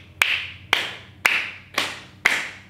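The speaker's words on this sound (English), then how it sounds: "let's begin our service by clapping" A church congregation claps to open a service: five separate, sharp claps spaced about half a second apart, each ringing briefly in the room, with no talking.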